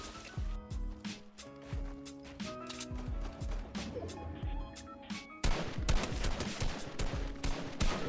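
Rapid repeated combat shotgun blasts from a Fortnite Battle Royale match, punchy and close, firing in quick succession over game music and effects, growing louder and denser toward the end.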